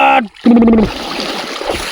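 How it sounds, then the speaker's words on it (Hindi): A buffalo walks into forest water and splashes, a noisy wash of sloshing that follows a short voice and carries on steadily to the end. "चली गई भैंस पानी में"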